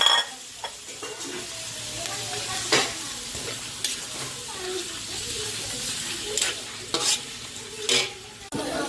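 Chorizo and pork frying in a pan for a stir-fried noodle dish, a constant sizzle and hiss broken by stirring scrapes and clacks, with a voice talking faintly in places.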